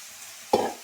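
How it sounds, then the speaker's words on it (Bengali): Potatoes and onion greens hit hot oil in a pan, a sudden close burst of sizzling that flares up after a quiet moment and then settles into a softer hiss. "এটা একটু ভেজে নিই ভালো করে।"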